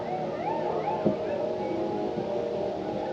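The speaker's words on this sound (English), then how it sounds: "That's coyotes." Coyotes calling from a den near a campground at Vedauwoo Recreation Area, a few distant wavering yips and rising howls over a steady background hum, with one brief thump partway through.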